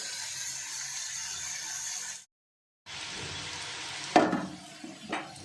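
Steady sizzling of chow mein frying in a pan breaks off for a moment, then returns with a few sharp clinks of a utensil against the pan.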